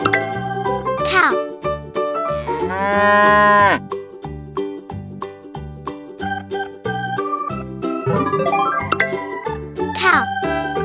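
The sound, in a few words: cow mooing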